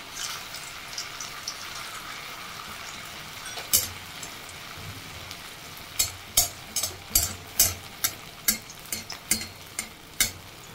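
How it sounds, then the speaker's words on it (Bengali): Flattened tikki patties fry in hot oil with a continuous sizzle, then a quick run of crisp, regular utensil taps and scrapes in the pan near the end. "তো চলো একটু তেল দিয়ে এগুলোকে ভেজে নিই"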